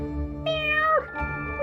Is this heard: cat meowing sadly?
yes